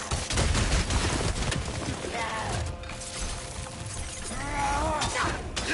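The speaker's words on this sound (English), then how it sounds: "Incoming fire!" Incoming fire in the video game God of War Ragnarök hits as a loud burst of crashing, shattering impacts and rapid blasts. A voice shouts over the chaos partway through.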